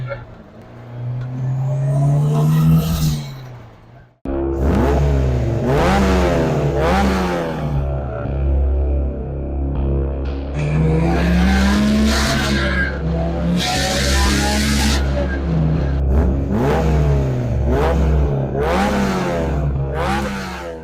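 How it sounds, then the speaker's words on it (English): A heavily modified turbocharged K24-swapped Honda S2000 revs hard from inside the cabin, the engine climbing through gears with a brief lift and gear change, then pulling again loud and close with turbo whoosh. "So we're driving the S2000, heavily modified."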